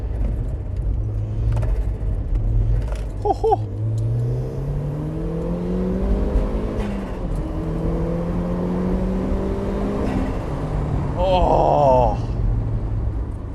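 A turbocharged Mk1 Mazda MX-5 on low boost accelerates up through the gears, the engine note rising and dropping with shifts and a turbo whistle near the end, heard from inside the car with a few brief exclamations.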